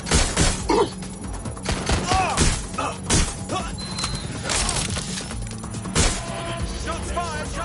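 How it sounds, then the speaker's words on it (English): Gunfire in the video game Watch Dogs Legion, repeated sharp shot bursts with crashes and impacts over a busy game soundtrack, close and loud, with game voice chatter mixed in. "Shots fired! Shots fired!"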